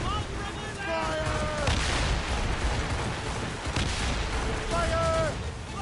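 Ship cannons fire in Assassin's Creed Rogue during a naval battle. Heavy booms and rumbling blasts pile up over one another, and shouting crew voices cut through the din of gunfire.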